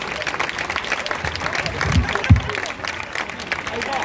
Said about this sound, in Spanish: Vamos a recibir con un fuerte aplauso a Mari Nieves.